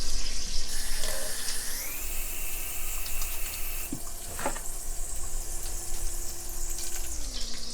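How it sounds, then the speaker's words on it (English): Tap water runs steadily into a sink as hands are washed beneath it, a loud continuous hiss with brief splashing changes when the hands move through the stream. "Let me wash my hands."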